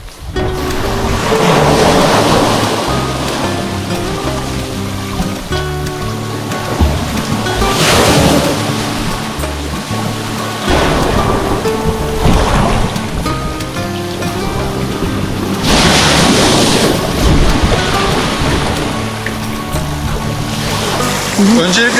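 Sea waves wash onto the shore of a secluded cove on Turkey's Black Sea coast between Karasu and Kefken in repeated surges, loud and close, with people talking faintly underneath.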